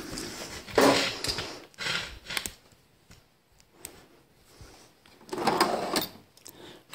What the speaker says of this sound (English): Let's go in a drawer.